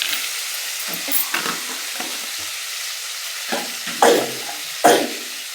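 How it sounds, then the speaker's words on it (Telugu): Curry leaves drop into leftover oil in a pan and sizzle softly nearby, with intermittent stirring scrapes and a few sharper crackling bursts toward the end. "మాకు వచ్చేసి ఇక్కడ ఆయిల్ అనేది మిగిలింది, దీంట్లోనే కరివేపాకు కూడా వేసేస్తున్నాం"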